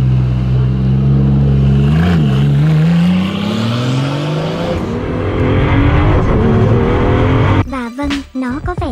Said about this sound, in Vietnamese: bạn nghe thấy tiếng động cơ từ bên trong xe